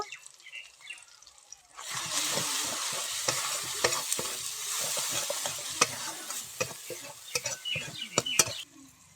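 Ground cumin, coriander, chili and turmeric frying in a pan for a vegetarian cabbage roll filling, starting after a short quiet moment as a steady close sizzle with frequent scraping stir clicks throughout.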